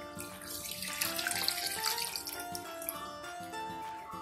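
Coconut milk and ground spice mixture poured into a pan of pearl spot fish for karimeen pollichathu, a steady close liquid pour and splash running throughout with no talking.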